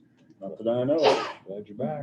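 A single sharp sneeze breaks out in the middle of talk during a county commission meeting, with voices speaking just before and after it.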